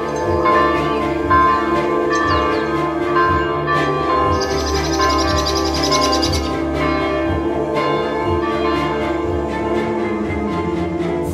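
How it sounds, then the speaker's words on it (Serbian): A church bell rings for the morning service, sounding sustained, overlapping ringing tones that hang and decay steadily, with birds chirping faintly in the background. "Zvonar je otišao da zvoni za jutarnju službu."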